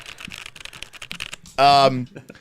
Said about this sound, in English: I think I have the loudest keyboard in the world.